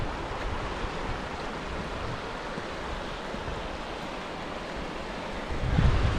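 Water from a river in Yosemite rushes in a steady, broad hiss that carries on evenly throughout, with a brief louder rumble swelling near the end; there is no talking.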